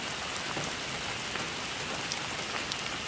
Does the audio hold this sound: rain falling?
yes